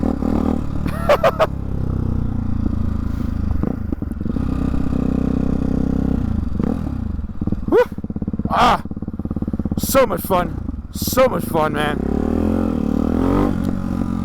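Husqvarna Hyper 698 motorcycle fitted with a titanium honeycomb-exit exhaust, engine idling with a steady low rumble and several sharp revs climbing and dropping, close by, with someone talking briefly over it.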